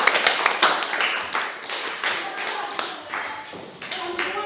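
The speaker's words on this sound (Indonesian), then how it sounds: "Tepuk tangan dulu untuk temannya." A class of primary school students claps together during a physical education lesson on balance, a steady patter of small hands that thins out toward the end.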